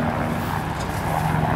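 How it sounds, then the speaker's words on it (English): A helicopter passes overhead at an outdoor engine and tractor show, a steady engine drone filling the air, a continuous low rumble with a faint rotor-like throb, moderately loud and unbroken. "Oh, helicopter coming over, Dale."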